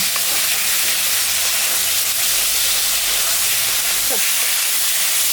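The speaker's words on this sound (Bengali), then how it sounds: "মশলাটা ভাজা হয়ে গেছে, এখন আমি জল দেবো সামান্য।" A loud, steady hissing sizzle as water hits hot frying spices in a pan, continuing without a break.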